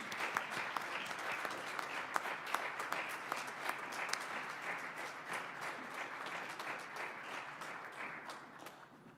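An awards ceremony audience claps for an honoree, a continuous patter of many hands with sharper individual claps standing out, moderately quiet and steady, with no talk over it.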